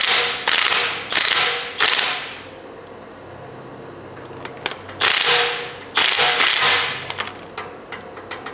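A socket wrench with a 1 1/8-inch socket ratchets on the front axle of a 1980 Chevy Silverado. Several loud bursts of rapid metallic clicking stop and start again, close up, with light tool clinks between them.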